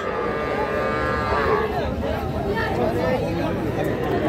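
Young bulls and heifer calves at a busy rural cattle market in Dinajpur, with a calf mooing loudly nearby over a constant babble of traders' voices and market chatter.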